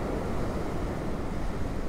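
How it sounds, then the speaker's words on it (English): Waves from Hurricane Milton's storm surge pound a beach near Vanderbilt Beach Park while strong wind buffets the microphone, a dense unbroken roar with no voices. "Those waves are ferocious."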